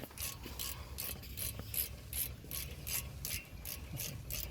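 A hand ratchet tightens the brake caliper bolts on a 2011-2021 Dodge Durango, clicking close and steady in an even rhythm of about two clicks per second, with no speech.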